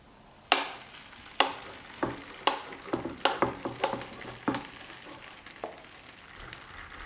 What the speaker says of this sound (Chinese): 电饼铛一定要提前预热，刷油，利用擀面杖放入饼铛中